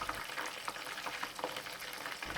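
Breaded shrimp sizzle in hot oil during a first frying, giving a dense, steady crackle with faint bubbling throughout.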